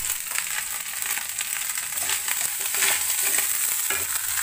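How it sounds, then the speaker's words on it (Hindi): Leftover rice stir-fried in a pan, a bright, hissing sizzle that runs continuously with faint scraping stirs throughout, close and steady with no speech. "ये चावल थोड़ा सा बचा हुआ था इसी को फ्राई कर रहे हैं।"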